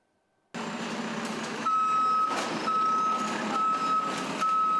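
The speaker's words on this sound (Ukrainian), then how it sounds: "у Запоріжжі звідусіль чути, як працює комунальна техніка" Municipal utility trucks at work in Zaporizhzhia after a drone attack: a steady engine rumble with a loud, repeating reversing beep sounding at regular intervals, close by and alone.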